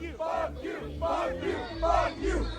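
A concert crowd chants at a security guard standing on stage, shouting in loud, rhythmic bursts that repeat about four times.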